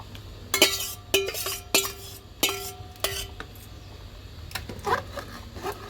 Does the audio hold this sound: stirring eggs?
yes